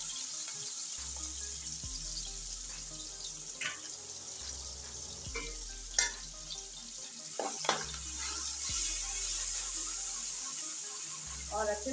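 Finely chopped onions sizzle in a hot pan, a steady frying hiss under scattered spoon scrapes and clinks, with running tap water and low hum at times; no one speaks.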